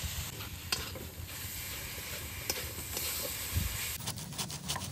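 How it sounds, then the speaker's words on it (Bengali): Grated coconut with sugarcane jaggery is stirred in a hot pan for steamed palm pitha filling, producing a soft, steady scraping and faint sizzle with occasional sharper utensil scrapes near the end. "এইভাবে নাড়তে নাড়তে দেখবেন খুব সুন্দর একটা কালার চলে আসবে।"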